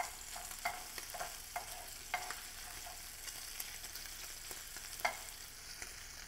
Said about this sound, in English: So we're doing the bacon now, melting out.